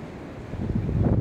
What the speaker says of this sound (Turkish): Çok dalgalı bir bölge.